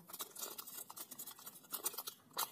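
Scissors snip through plastic shopping bags being cut into large pieces for an ecobrick, a quick run of close, crisp cuts in an irregular rhythm, fairly quiet with no talking.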